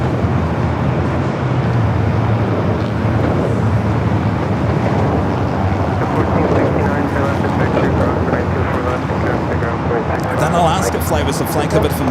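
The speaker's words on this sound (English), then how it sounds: "This United flight heading to Hong Kong, a 787 10 Dreamliner" United Boeing 787-10 Dreamliner bound for Hong Kong at Los Angeles airport, a continuous loud low jet rumble with wind buffeting, steady throughout.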